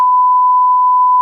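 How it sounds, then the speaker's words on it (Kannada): A steady, loud censor beep, one continuous pure electronic tone held for just over a second, alone with no other sound. "ಬೀಪ್ ಹಾಕೋ."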